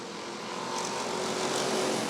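Race cars picking up speed at the start of a Rockford Speedway bracket heat, a steady, swelling engine roar from a distant pack that grows slightly louder over a couple of seconds.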